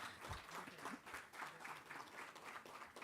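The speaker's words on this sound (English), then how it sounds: "I request everyone to please give a huge round of applause for our dignitaries and welcome them" An audience at an inauguration ceremony at NIMHANS, Bengaluru applauds the dignitaries with steady, moderately distant clapping that continues evenly throughout, with no voices over it.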